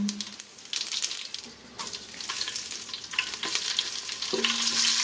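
Whole spices and green chillies frying in ghee for biryani, a steady close sizzle with scraping and stirring from a utensil, faint clinks now and then, no talk.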